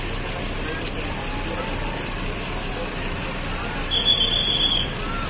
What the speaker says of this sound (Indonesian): Ini ada 10 unit bus metropolitan akan berangkat mengantarkan para peziarah dari